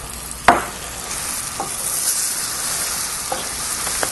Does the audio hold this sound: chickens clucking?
no